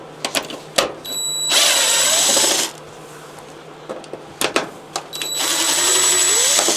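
Cordless power tool backing out T20 Torx screws on a Miele dryer, two loud whirring runs of a couple of seconds each, with clicks and handling knocks between them.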